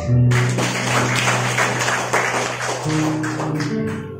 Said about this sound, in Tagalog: Sa lahat mo ng buhay, pumalakpak.